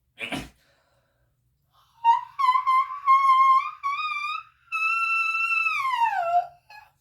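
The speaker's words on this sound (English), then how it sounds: "Sounds exactly like my whistle tones." After a sharp breathy burst, thin whistling tones sound in a few short bursts, then a long sustained note that slides downward before fading.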